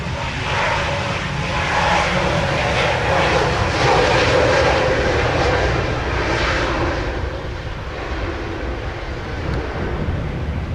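An airplane roars close and loud on takeoff from runway 07 in gusty 33 mph winds in Jamaica, a broad steady engine rush with wind buffeting the microphone.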